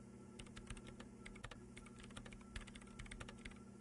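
Rapid, uneven clacking of keys on a computer keyboard, close and steady, with short bursts and pauses and no talking.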